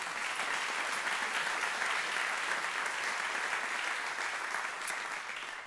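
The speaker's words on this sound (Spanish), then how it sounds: "Dale un aplauso al Señor." An audience gives sustained applause, a dense, even wash of many hands clapping at moderate distance that holds steady and tapers slightly at the close.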